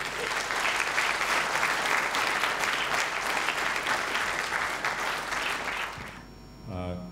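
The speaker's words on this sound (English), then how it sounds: "Please, huge applause for that." A conference audience at CSSConf.Asia 2014 gives a full, sustained round of applause after a talk. The clapping fades after about six seconds, and a single voice starts speaking.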